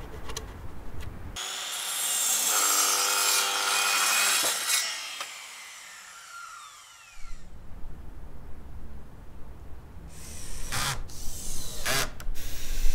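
A grooved wooden fence rail being sawn to length, a loud close rasping saw stroke lasting several seconds, followed by quieter handling, knocks and scraping of wood.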